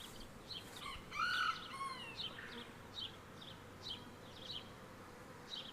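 Honeybees in a queenless hive buzz faintly in short, scattered bursts, with a few chirpy bird-like tones mixed in, all quiet and close with no speech.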